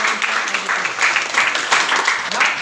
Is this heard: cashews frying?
no